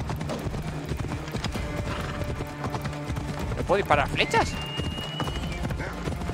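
A horse in Assassin's Creed Odyssey gallops with rapid clip-clopping hooves and lets out a clear whinny midway, close and loud, while someone talks over it.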